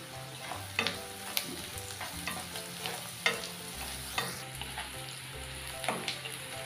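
Sliced onions with salt and hing powder frying in a pan for a home-style egg curry, stirred with a spoon giving soft scrapes and clicks over a constant quiet sizzle.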